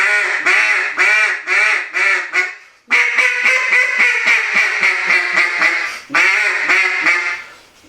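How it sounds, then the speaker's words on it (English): A hand-blown duck call produces loud, close series of rapid quacks in rhythmic runs, each burst descending in a cadence, with brief pauses between sequences and no talking over it. "So that is the principle of blowing a duck call."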